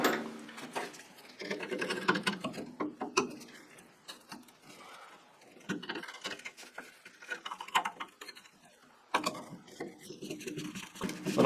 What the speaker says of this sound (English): You got to use a wrench.